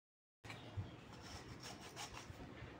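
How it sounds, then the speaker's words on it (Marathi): Jaggery being rubbed on a small hand grater, a steady close scraping rasp that starts abruptly and continues with slight strokes, quiet in a home kitchen. "मी अशानुसार गूळ किसून घेते या छोट्याशा किसणीने"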